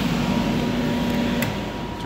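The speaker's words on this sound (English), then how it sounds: "Turn this blower off." A blower runs steadily inside a vortex tunnel, giving a constant broad roar with a low hum throughout and no other events.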